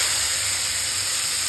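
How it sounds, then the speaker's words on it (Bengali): Chopped onions hitting hot oil with whole garam masala spices and bay leaf, a loud, close, even hiss of sizzling sustained throughout. "এবার পেঁয়াজ কুচিগুলো দিয়ে দেবো।"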